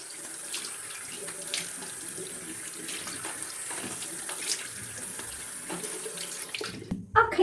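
Water runs steadily from a sink tap at home while someone washes their face, a constant close hiss with small splashes. It cuts off abruptly near the end.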